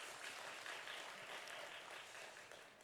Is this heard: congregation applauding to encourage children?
yes